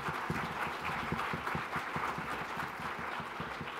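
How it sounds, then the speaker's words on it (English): Audience applause for a presenter at a rapid-fire presentation session on smoking care, heard fairly faint and distant as a busy, uneven patter of many hands clapping throughout. "a big round of applause for Scott"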